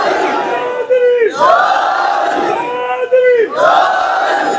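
A large crowd at a Muharram majlis loudly chants the slogan Haidari in unison, two long rising-and-falling shouts in a steady repeated rhythm that fill the space.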